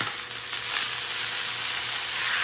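Fish frying in oil in a pan as part of a fried rice, fried fish and scrambled eggs meal, giving a steady, dense close sizzle with no pauses and no talking.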